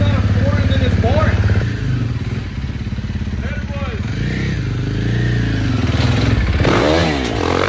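A 2024 KTM 450 dirt bike engine roars loud and close, revving up and down in throaty surges over a steady rumbling idle, with people talking over it.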